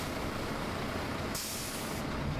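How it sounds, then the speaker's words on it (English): Air brake released on a tractor-trailer with a dry van, a brief sharp hiss of escaping air that lasts under a second over a steady low rumble. "Release the tractor brake with the trailer brake still applied, and tug forward gently to verify the trailer parking brakes will hold."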